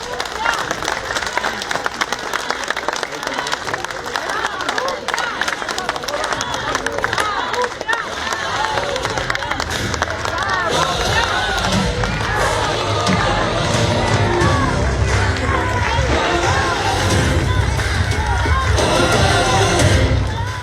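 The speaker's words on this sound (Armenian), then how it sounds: "Բարձր ծափերով դիմավորում են" A large crowd in Stepanavan, Armenia, claps steadily and cheers throughout, welcoming Gagik Tsarukyan, the applause growing denser and louder toward the end, with voices mixed into the din.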